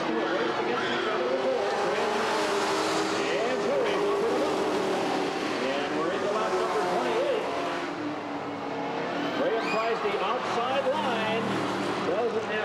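Stock cars race around the oval at Redwood Acres Raceway in 1989, a loud, continuous roar of engines with shifting pitch as they pass, while an announcer talks over the noise.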